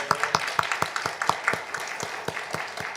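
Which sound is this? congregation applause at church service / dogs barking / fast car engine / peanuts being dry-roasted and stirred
congregation applause at church service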